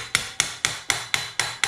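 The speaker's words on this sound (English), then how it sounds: "you're gonna have to hammer it in" A part is hammered into BMX bike cranks without a mallet: seven sharp metallic strikes in an even, quick rhythm, close and clear, each ringing briefly before the next.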